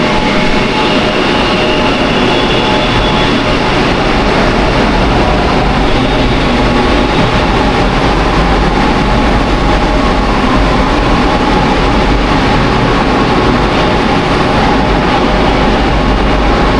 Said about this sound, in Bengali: এবার এই ট্রেনটি চলে যাবে আপনার হাওড়া ময়দানের দিকে।